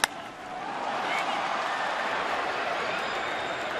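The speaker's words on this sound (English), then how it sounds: "Crowd got excited" A Red Sox versus Yankees baseball stadium crowd swells into a broad, sustained roar after a sharp crack at the start, heard at a moderate level over the wash of the crowd.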